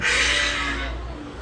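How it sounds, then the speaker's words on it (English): A single long, hoarse animal bellow like a moose call, loud and close, holding for over a second before fading slightly. "That's the sound of a moose."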